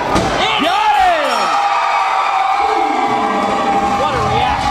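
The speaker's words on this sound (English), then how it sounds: "This crowd is going crazy!" A wrestling arena crowd roars and cheers loudly and continuously, with whistles and yelling voices rising over the sustained din.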